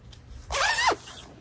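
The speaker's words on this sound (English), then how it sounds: "Zip it up" A zipper drawn shut on the small inner battery pouch of a Dewbu heated jacket, one smooth, close rasping pull of about half a second, with no talk.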